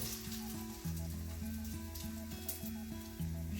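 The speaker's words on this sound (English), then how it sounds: "So we can hear the sizzling happening" Oil sizzles steadily as turkey patties fry in a pan for an Indian-style dish, a close, continuous crackle with a low hum running underneath.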